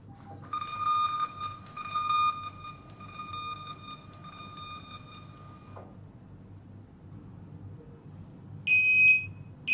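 A sustained electronic error alarm from a SATO CL4NX label printer rings steadily for several seconds, then cuts off, leaving low background hum, followed by a brief burst of higher beeps near the end.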